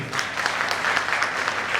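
Loud, steady applause from an audience at a stage event, many hands clapping densely and continuously without a break, close and filling the room.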